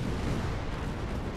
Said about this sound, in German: Wir gehen mal auf die Kanonen, auf die Bomben.